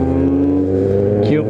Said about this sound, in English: Cute Miata.